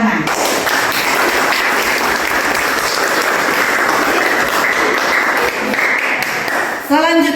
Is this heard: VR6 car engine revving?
no